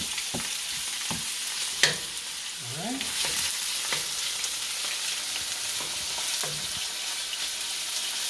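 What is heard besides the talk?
chicken frying in hot oil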